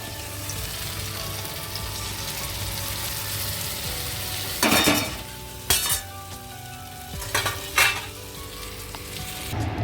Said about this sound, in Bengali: এবার কড়াইতে সামান্য তেল দিয়ে এটাকে জাস্ট নেড়ে নেব।